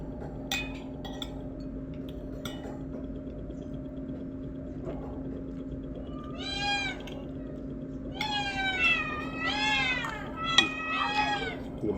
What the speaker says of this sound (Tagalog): magising yung pusa ko kaya maingay na naman.